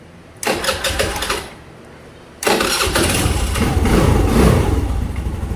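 A Honda K-Blade scooter engine with a misfiring starter motor bendix cranks briefly and falters, goes quiet, then starts on the second try and keeps running at a loud, steady idle.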